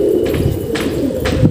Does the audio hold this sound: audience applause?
no